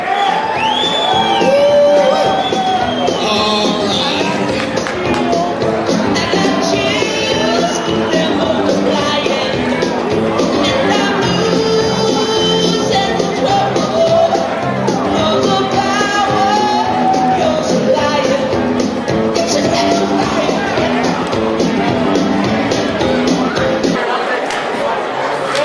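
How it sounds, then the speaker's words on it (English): A crowd at a boxing event applauds, cheers and whoops for a ring girl, a dense continuous roar of voices and clapping with an announcer talking over it. "Let's have a big round of applause out there."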